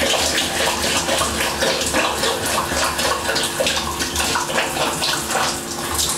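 Shower water running steadily and loudly at close range, a dense continuous splashing spray with no voices over it.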